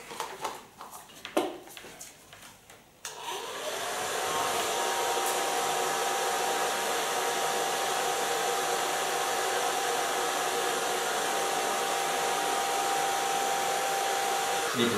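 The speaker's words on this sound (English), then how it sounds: "Take a blow dryer and a diffuser." A hair blow dryer fitted with a diffuser switches on after about three seconds of handling clatter, then runs steadily as a loud, continuous whooshing drone until the end.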